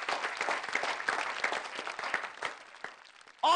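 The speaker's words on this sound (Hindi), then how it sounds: "त्रिपाठी जी के लिए जरा हम जोरदार तालियां बजाएंगे।" A studio audience claps for a performer on a comedy-poetry show, a busy patter of hands that thins toward the end before a sudden loud burst cuts in.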